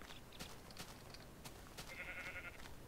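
Sheep bleat in the Minecraft video game, a faint game-animal cry rising about two seconds in over a steady noisy background, with a few soft clicks before it.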